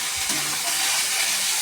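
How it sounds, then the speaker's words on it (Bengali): Pointed gourd and potato sizzle in hot oil with onion and chilli, a steady loud broadband hiss throughout with no other distinct sounds. "পটল ভাজা হচ্ছে।"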